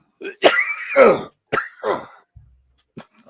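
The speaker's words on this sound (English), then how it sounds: "Is he coughing?" Several harsh, close coughs come in quick bursts with short pauses between, followed by a faint grunt.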